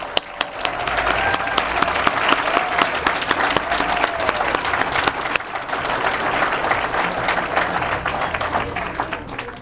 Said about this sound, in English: can I have another round of applause for the most deserving 2022 inductees?